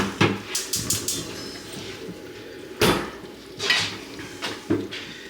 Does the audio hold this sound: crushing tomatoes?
yes